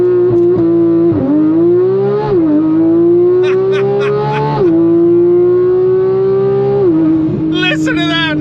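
A Porsche GT3 on launch control, its engine held at a loud steady high drone, then climbing in pitch through several rising sweeps with quick gear changes, close and continuous.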